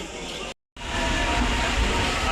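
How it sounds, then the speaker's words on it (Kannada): A DEMU train from Madgaon to Mangalore pulls into Kundapura railway station with a loud, continuous rumble of wheels and engine. A brief dropout interrupts it early, then the roar resumes, close and steady. "ನೋಡಿ, ಇಲ್ಲೊಂದು ಟ್ರೈನ್ ಬರ್ತಿದೆ."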